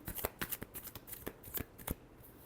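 Tarot cards are shuffled and handled up close, with a quick series of crisp riffling snaps and flicks, fairly quiet and with no talking.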